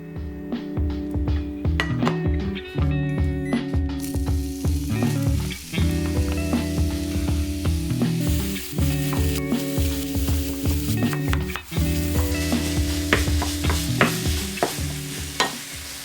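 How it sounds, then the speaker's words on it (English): Chicken mince sizzles loudly in a hot frying pan while a utensil repeatedly scrapes and stirs, with clinks of metal against the pan. "we're gonna cook the chicken mince in the same frying pan"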